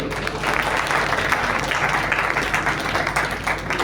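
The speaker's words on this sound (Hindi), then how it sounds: "एक बार जरा ताली बजा के मन मन।" Audience applause at a Hindi poetry gathering, a loud sustained roar of many hands clapping at once, even and unbroken from start to finish.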